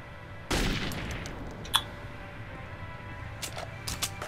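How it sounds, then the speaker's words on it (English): Gunshots in the video game Metro 2033, one sharp shot followed by a few fainter scattered cracks and a metallic ping, set against a quiet background. "I wonder where all those shots went that I missed"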